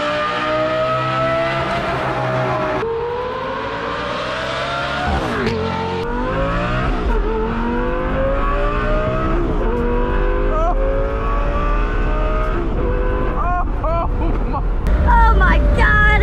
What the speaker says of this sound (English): it sounded exactly what it did, like with Street Speed 717's former Lamborghini Gallardo with the Fab Speed exhaust